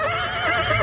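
Horse neighing as an audio drama sound effect, a single sustained whinny filling the short clip at close range, with no talk over it.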